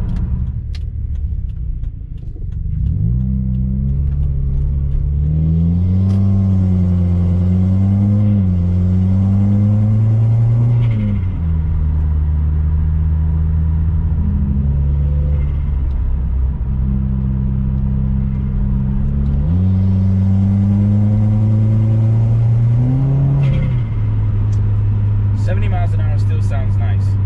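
Remark axle-back exhaust on a 2016 Subaru WRX driving past close by, a deep steady drone that swells and drops as the engine revs up and settles several times, with a faint hiss underneath.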